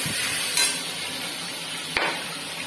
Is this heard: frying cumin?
yes